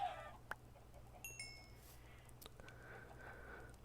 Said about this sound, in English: swinging away at the poor little chickens out here in the barnyard with a diamond sword